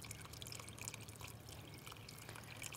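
Chicken stock poured into a pot of Brunswick stew: a steady, soft trickling and splashing of liquid, continuous and fairly quiet throughout, with no speech.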